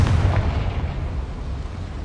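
A fire spell blast in the Hogwarts Legacy video game lands as a loud, booming explosion, with a heavy low rumble that decays over about two seconds.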